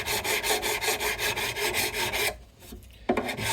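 Sandpaper rubs back and forth over the frets of a Blueridge BR-40 guitar neck in a fast, even rasping rhythm, close and steady, then stops briefly and resumes with a single stroke.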